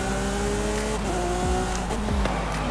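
A 2018 Lamborghini Aventador SVJ accelerates hard in Forza Horizon 5. A loud, steady engine roar carries rising harmonic whines, with quick gear-shift dips in pitch and a touch of tire squeal. It sounds close and continuous with no talk.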